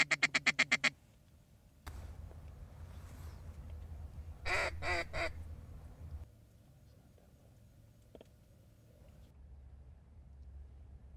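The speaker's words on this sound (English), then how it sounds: "these ducks are so callable. I mean, they come right to the call." Hunters blow duck calls over a marsh where the ducks are responsive to calling. A rapid series of loud call notes opens, then a burst of quacking follows midway over low ambient rumble.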